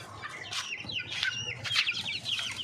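Pet birds, likely chickens or fowl, cluck and call close by in a steady, noisy backyard setup, with rustling and wing flapping throughout and no talking.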